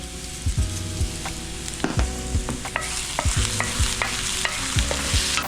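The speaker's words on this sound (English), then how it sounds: "my garlic has started to sizzle." Garlic sizzling in a pan for a cioppino, a steady frying hiss with repeated scraping and clinking of a utensil stirring against the pan, close and continuous, with no talking.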